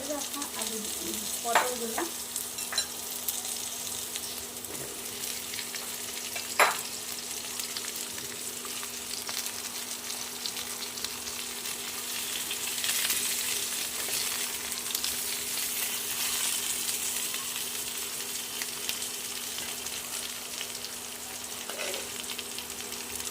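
Potato pieces and pointed gourd frying in a pan for a Bengali fish curry, a steady soft sizzle throughout with occasional clinks and scrapes of a spatula stirring, fairly quiet and close with no talking.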